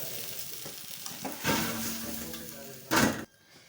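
Tangra fish fry in a pan on a home stove, giving a close, steady sizzle with louder bursts of spitting oil, then an abrupt drop to near quiet at the end.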